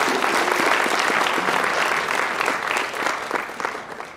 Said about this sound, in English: So if we give them a big round of applause